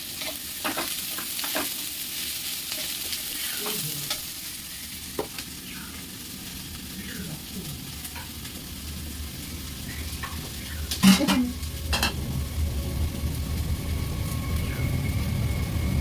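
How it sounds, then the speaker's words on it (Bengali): Leftover rice from the previous day fries in a pan, giving a quiet continuous sizzle with repeated scraping stir strokes and a brief clatter of utensils partway through. "তোমাদের দেখিয়ে দিই যে ভাজাটা কত দূর হয়েছে।"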